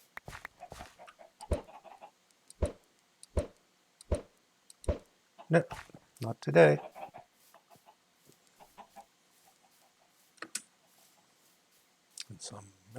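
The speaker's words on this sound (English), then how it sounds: "Hello noisy chickens." Noisy farmyard chickens cluck in a run of short, sharp calls spaced fairly evenly, then more scattered, with a person speaking briefly nearby among them.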